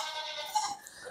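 A pink Lilliput bantam goat, a compact breed about one and a half feet tall, gives a single short bleat up close, heard alone.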